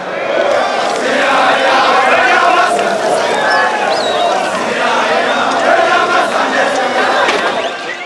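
A large crowd of Zulus massed on the platform at Inhlazane station in Soweto, a dense continuous roar of shouting and chanting voices, loud and close throughout.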